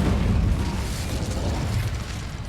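Incendio fire spell cast in Hogwarts Legacy, a loud whooshing, roaring burst of flame with a crackling rumble that holds strongly for a couple of seconds, no voices over it.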